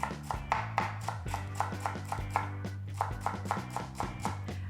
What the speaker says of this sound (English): divide celery like this.